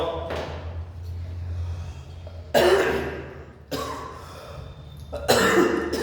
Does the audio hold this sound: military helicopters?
no